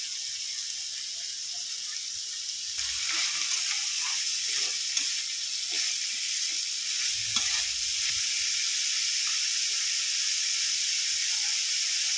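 Beets, carrots, ginger and green chilies stir-fry in a pan with a steady hissing sizzle and occasional soft stirring scrapes, close and continuous.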